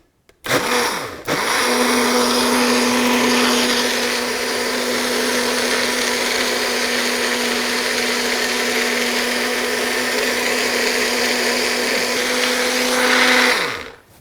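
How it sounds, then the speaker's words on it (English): Food processor pureeing tomato and mushroom soup, a steady loud whirring motor hum running continuously for over ten seconds after a brief start, then cutting off. "I'm going to get this going on my pureer again"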